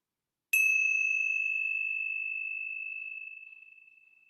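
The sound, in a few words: ringing a bell once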